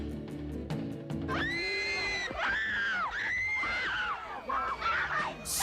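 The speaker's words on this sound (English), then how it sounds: "emotional scenes of screaming and crying girls at concerts reminds us of the deeply emotional nature of Scorpio" Shrill screaming from an excited concert crowd of girls, high wailing voices rising and overlapping loudly after a brief lower-pitched opening, sustained and dense throughout.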